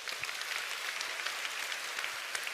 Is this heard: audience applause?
yes